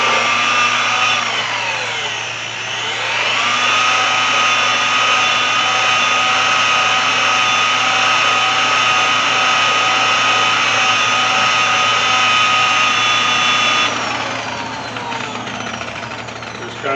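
A buffer polisher spins at low speed to soften and clean its pad while restoring paint on a 1991 Chevy OBS GMT400 truck, giving a steady, loud motor whine that dips briefly early on and drops off near the end.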